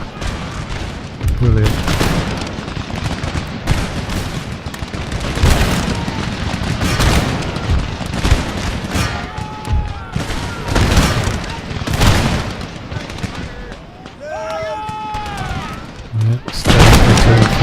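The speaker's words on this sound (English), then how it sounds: "Coldstreams let off an enormous volley there, looking at the smoke" Musket volleys from Coldstream Guards line infantry in the Empire: Total War battle game, with loud crackling fusillades and booms rolling through the scene, sharp bursts near the start and end, and a voice speaking briefly.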